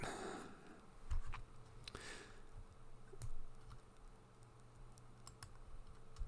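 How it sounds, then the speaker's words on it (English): Typing on a computer keyboard at a desk: quick bursts of close, light key clicks with short pauses between, alone and fairly soft. "Important for me to talk while I'm typing"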